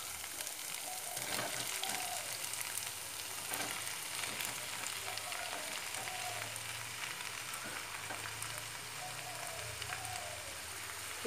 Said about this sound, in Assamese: এয়া চাওক, এতিয়া কঁঠালখিনি ঢালি দিম আৰু